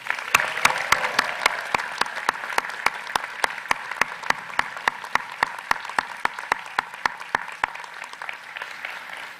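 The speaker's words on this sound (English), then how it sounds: "Let's give them all a round of applause." Applause at the 2019 UVA Darden School of Business graduation ceremony: a dense wash of clapping that gradually thins, with scattered sharp individual claps standing out in a steady rhythm until it tapers near the end.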